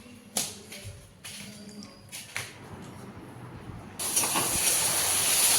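Boiled chow noodles with potato and onion frying in a pan, a few clattering knocks early on, then a loud steady sizzle and hiss swelling up in the final seconds.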